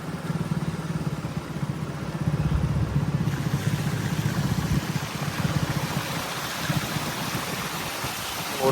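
A motorcycle pushes through fast-flowing floodwater in Ajnala, Punjab; a continuous engine drone blends with loud rushing, splashing water, close and steady throughout.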